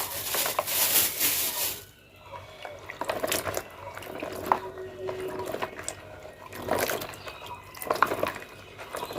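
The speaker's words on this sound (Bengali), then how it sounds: "প্রথমে আমি এখানে ঢেঁড়সগুলো সুন্দর করে ধুয়ে নেব।" Okra is washed under running water at a sink, with splashing bursts, trickles and drips, close and fairly quiet, and the water stops briefly partway through.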